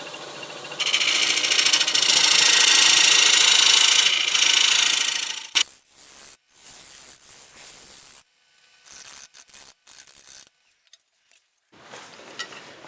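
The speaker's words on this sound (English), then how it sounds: "I'll do a little shear scraping here to try to smooth it up." Shear scraping a macadamia wood bowl on a lathe gives a loud, steady hissing scrape for several seconds, then stops, followed by shorter bursts of scraping separated by pauses.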